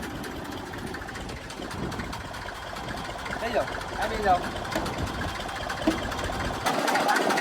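A tractor engine idles nearby in a steady, throbbing mechanical drone with faint knocking, while people talk over it throughout.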